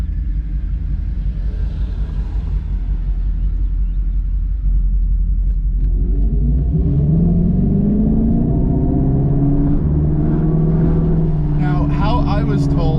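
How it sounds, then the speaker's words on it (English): A 2025 Dodge Charger Daytona Scat Pack electric car's Fratzonic synthetic exhaust rumbles deep and loud while driving, swelling into rising, engine-like droning tones toward the end. "this ridiculous Fredsonic exhaust system"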